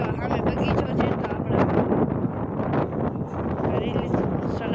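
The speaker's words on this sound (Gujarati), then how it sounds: "પવન કેવો ફાસ્ટ ચાલી રહ્યો છે." Strong wind blows hard into the microphone outdoors near a garden at a dargah, a continuous loud roaring rumble with people talking underneath.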